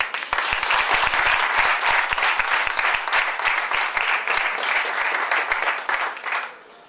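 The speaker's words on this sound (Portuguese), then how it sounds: "uma salva de palmas" Students and guests at a school presentation of the SOS Rio Paiva game in a FNAC store break into a full round of applause that stays loud and dense for several seconds before tapering off.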